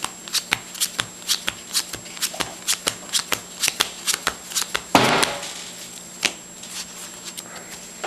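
Yu-Gi-Oh trading cards are drawn and shuffled up close in a quick, steady train of crisp card snaps, with one louder riffling burst midway.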